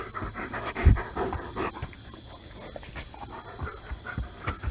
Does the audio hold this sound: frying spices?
no